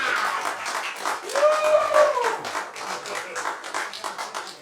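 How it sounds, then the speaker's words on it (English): A theater audience at a live mentalist show in St. Petersburg, Florida applauds with dense, sustained clapping, and a brief vocal exclamation rises over it partway through. "Give these guys a round of applause."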